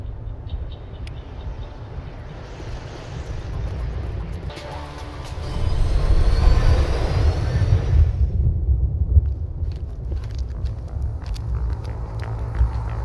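A cargo train rumbles past on a colony world, a heavy low drone that swells louder in the middle with metallic screeching and clatter before easing back to a steady rolling rumble.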